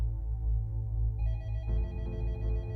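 A telephone rings in a police office, a sustained electronic ringing tone that shifts pitch partway through and carries on steadily and fairly clear.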